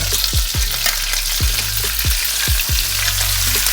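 Grass-fed ground beef seasoned with salt and pepper sizzles steadily as it browns in olive oil, a loud continuous frying hiss broken by a few low knocks of a utensil stirring the pan.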